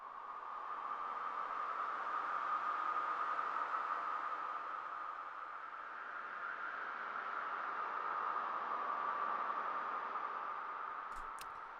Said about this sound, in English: this is just the sound of wind